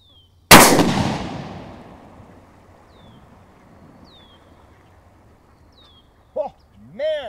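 A shotgun with a short 18-inch barrel fires a single 3-inch magnum shell outdoors, one sharp, very loud blast followed by a long decaying echo, with birds chirping faintly and a short voice near the end.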